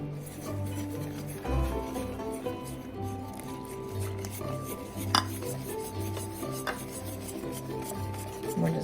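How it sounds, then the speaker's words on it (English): A spoon stirs milk and sugar in a bowl for freezing peaches, making soft, close scraping and swishing sounds with occasional light clinks against the bowl. "We're just going to stir that until it's well blended."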